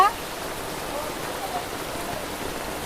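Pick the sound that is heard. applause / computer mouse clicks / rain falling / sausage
rain falling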